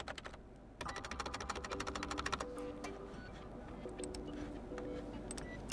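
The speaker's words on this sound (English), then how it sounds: "Now I'm typing from the keyboard" Rapid, fairly quiet keystrokes clatter on a PC computer keyboard, a fast even run of clicks followed by sparser, irregular taps, with no voices.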